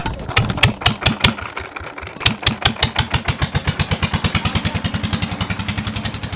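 Peter diesel engine driving a tubewell pump, starting with irregular heavy thumps that settle into a rapid, even chugging beat, loud and close, with no voices.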